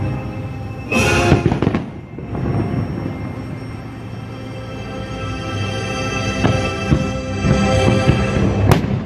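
Fireworks burst over Disney Epcot's IllumiNations show, sending a dense, loud rumble of booms and crackles across the full span, with sharper pops standing out from the steady roar.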